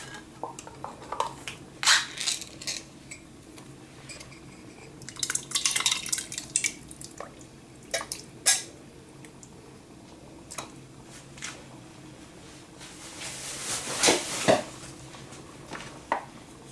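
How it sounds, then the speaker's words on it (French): Crushed tomatoes from a can are added to a pot of Indian soup, with scattered clinks of metal and wet plops and squishes, a cluster of louder scraping and sloshing near the end. "On ajoute donc la boîte de tomates concassées."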